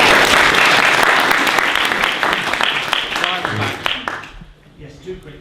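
A crowd at a public meeting in East London applauds loudly, the clapping dense and steady at first, then thinning and fading away to a few scattered claps.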